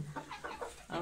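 Hens cluck in short, quick bursts close by, four or five throaty clucks in a rapid, uneven rhythm.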